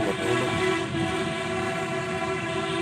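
A train runs along a railway line at night, a steady rumbling roll with a sustained horn-like tone held throughout, moderately near.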